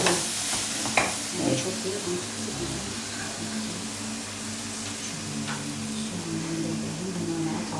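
Vegetables sautéing in oil in a pan for kısır, a steady close sizzle with a few stirring clatters early on.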